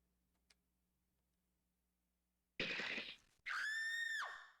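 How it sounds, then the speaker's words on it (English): A scream sound effect from The Gray Garden video game: silence with a faint tick, then a loud burst of harsh noise followed by a sustained, wavering high-pitched scream that fades out. "default scream."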